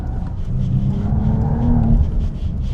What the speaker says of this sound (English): Acceleration is also sick. Third gear.